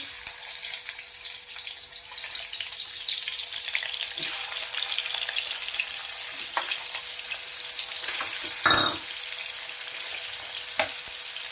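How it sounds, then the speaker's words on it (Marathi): Onion sizzles and fries in oil in a pan for wheat noodles, a steady close crackle with a few brief clinks and stirring knocks near the end. "ऑनियन टाकायचं आहे."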